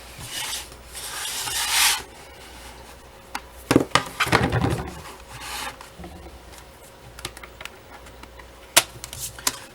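A project piece cut by hand, with bursts of rough, rasping strokes, a long scrape at the start and louder scraping in the middle, then scattered light taps and scrapes, close and with no talking.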